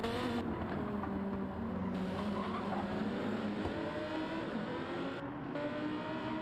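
A Lamborghini GT3 race car cornering in a racing game, with a steady, loud engine drone that shifts pitch as it brakes and accelerates, plus faint tyre noise.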